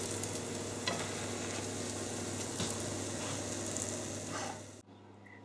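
Low-protein vegetable burgers frying in a pan, a steady soft sizzle with a low hum beneath and occasional light scrapes, cutting off near the end.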